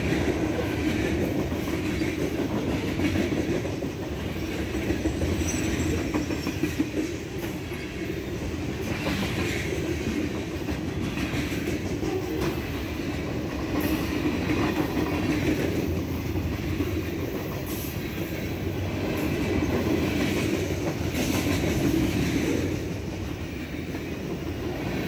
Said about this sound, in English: this 30T with two CN locomotives for 4M power running all the way south to Binghamton